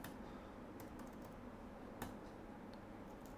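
Faint, quiet keystrokes on a Mac computer keyboard, a few soft clicks over a steady background hiss, with no talking.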